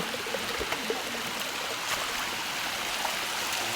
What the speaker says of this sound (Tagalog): Ayan kami dito sa sapa.